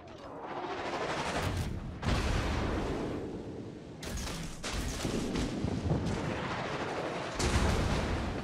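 Naval guns fire in World of Warships, heavy booming salvos rolling one after another with deep rumbling tails, loud and close, several distinct blasts over a continuous battle roar.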